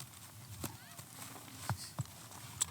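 Horse trotting during a horseback ride in Mongolia, a few faint, scattered hoof thuds at a distance under quiet background noise, with a voice speaking briefly.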